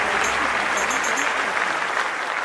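Steady applause from a large crowd fills the weightlifting arena at ExCeL London in the London 2012 Olympic video game, a dense, continuous wash of clapping with no break.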